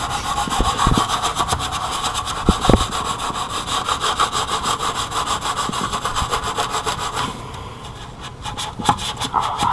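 A power drill spins a brush attachment to scrub grime off a wheel, giving a steady, close, loud whirring scrub that runs almost without a break and eases off briefly near the end.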